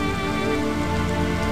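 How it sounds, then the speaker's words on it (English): Steady rain from the video game I Remember the Rain, a continuous even hiss of falling drops with a constant soft tonal drone underneath and no voices. "I remember the rain."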